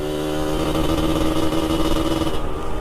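A Yamaha RX-King motorcycle engine revs loudly and steadily up close, its rough harmonic drone holding throughout with no voices.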